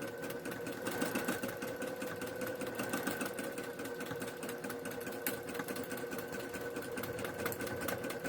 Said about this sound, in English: It's a very heavy-duty straight stitch machine.